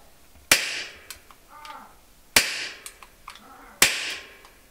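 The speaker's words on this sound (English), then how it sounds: "I'm just going to use this two-handed because I don't want to shoot myself." Three sharp, loud gunshots from an Arsenal RS-1 knife gun firing roughly 50-to-60-year-old ammunition, spaced a second or two apart, each with a crisp crack and short echoing decay and no talk.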